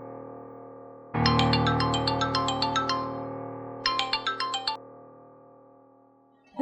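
A ringtone plays loud and close: a burst of rapid chiming notes, a brief pause, then a shorter second burst, with a steady electronic tone sustained underneath and fading away afterward.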